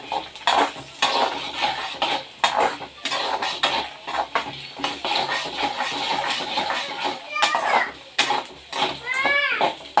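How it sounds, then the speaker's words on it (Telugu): Chana dal roasting in a pan, with repeated metallic scraping and clinks of a spoon stirring against the pan, close and fairly loud in uneven bursts; faint voice-like sounds appear near the end. "శనగపప్పును కూడా కొంచెం దోరగా వేగేదాకా వేయించుకుందాం"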